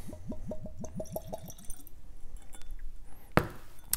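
Hazelburn 14-year-old sherry wood whisky glugs from the bottle into a Glencairn glass in a quick, rhythmic run of about eight gurgles that slow and fade, followed by a brief knock of glass.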